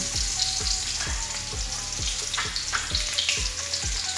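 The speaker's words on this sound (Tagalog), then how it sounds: "kapag mainit ng ating kawali, pwede nang pagsabaying ilagay ang sibuyas at bawang. Gigisahin natin sila" Onion and garlic sizzle together in a hot pan at the start of pork rib sinigang. A dense steady frying crackle runs throughout, with regular low thumps from stirring about twice a second.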